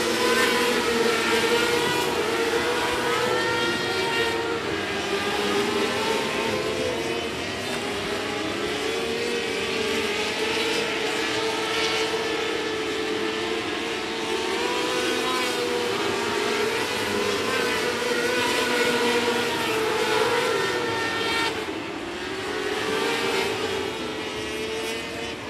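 Race cars roar around the oval at 105 Speedway under green-flag racing, a dense, continuous engine drone with shifting pitch as the pack circles, loud and sustained throughout.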